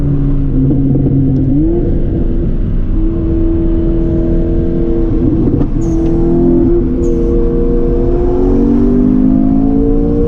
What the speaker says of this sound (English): I hear the blow valve better. You can hella hear it.